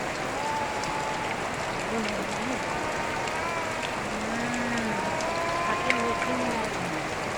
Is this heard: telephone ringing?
no